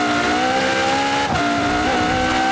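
A 2013 Ferrari LaFerrari accelerates hard in the Forza Horizon 4 video game, its engine holding a loud, steady, high-pitched tone with a brief dip mid-run, close and alone without talk.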